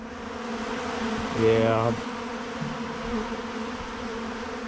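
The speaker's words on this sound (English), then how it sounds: "See here, all these bees in here." Bees buzzing at a hive, a steady droning hum. One louder, closer bee passes by partway through, and a brief voice is heard.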